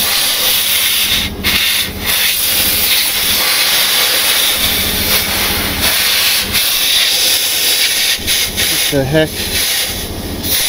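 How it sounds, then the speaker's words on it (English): A loud, continuous hiss of air leaking from a red dump truck's air system dominates throughout, with brief dips and a short spoken exclamation near the start. "Yeah, air leak, of course."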